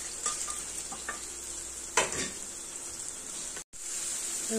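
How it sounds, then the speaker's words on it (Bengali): Spice paste of ground coriander, cumin and turmeric mixed with water fries in a pan for a fish curry, with a steady close sizzle and a few stirring scrapes, briefly cutting out, with no voices. "মশলাটাকে এবার ভালো করে কষাবো।"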